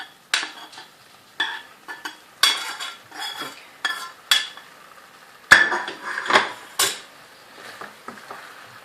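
Okra goes into a pan of potato curry with a series of separate metallic clanks and scrapes from a spoon against the pan. The sharp bursts are close and spaced irregularly, with quiet gaps between them.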